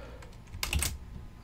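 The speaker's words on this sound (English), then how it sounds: "you're going to hold control, hold alt, and then press delete." Control, Alt and Delete pressed on a computer keyboard: a few soft key taps, then a louder cluster of clicks from the combination, close and brief in a quiet room.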